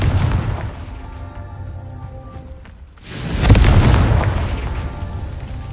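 Confringo explosion spell in the video game Hogwarts Legacy on PS4: a loud booming blast bursts out around midway over a rumbling game soundscape, then a long roaring tail slowly fades.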